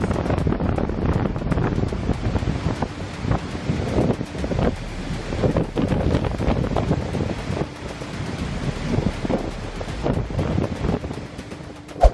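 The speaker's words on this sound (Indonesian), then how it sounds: "ombak yang menghantam tetap mampu menyemburkan air hingga mencapai bagian atas platform" Heavy ocean surf pounds and roars continuously against a steel offshore platform, mixed with buffeting wind noise, loud and close, with a sharp thump near the end.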